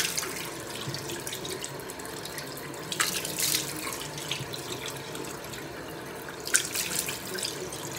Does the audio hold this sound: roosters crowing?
no